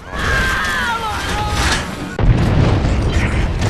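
A frag grenade goes off in the shooter Gears of War 3 during a ranked 5v5 match, a loud, sharp boom about two seconds in. It sits within continuous dense game noise, with faint voices nearby.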